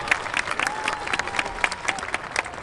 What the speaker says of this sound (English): Give another round of applause for your top students of